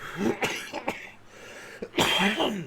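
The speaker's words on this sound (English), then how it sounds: "didn't mean to pause it just to cough" A smoker coughs up close in a cluster of rough, throaty bursts, a quick pair early on and then a heavier hack after a short pause, with no talking.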